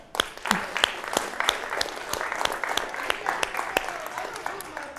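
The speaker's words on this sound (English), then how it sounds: "clap it up" Audience at a math event clapping with sharp, distinct hand claps over a broad wash of applause, steady and fairly close for the whole stretch.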